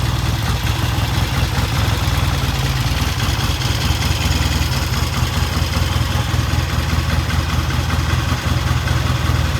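Vintage British motorcycle engine idling steadily, a constant low throbbing chug that stays even throughout, close by and without speech.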